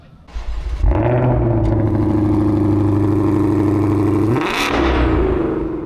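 A Ford Mustang Dark Horse SC with a supercharged 5.2-litre V8 fires up and holds a loud, close rumbling rev. The engine blips sharply higher near the end before settling back.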